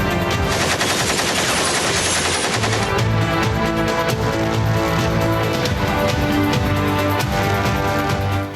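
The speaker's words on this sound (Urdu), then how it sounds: "لاہور کے ایک تاجر کے گھر اندھا دھند فائرنگ کر دی تھی" Indiscriminate gunfire outside a trader's house in Lahore, captured in news footage: dense, continuous rapid shots and bursts fill the whole stretch at close, loud level with no talk.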